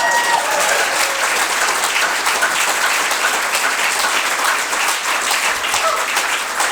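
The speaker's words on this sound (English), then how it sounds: "That's applause for the voters in my riding" Dense, sustained audience applause at a political speech in Hamilton, steady clapping from a large crowd filling the room throughout with no pauses.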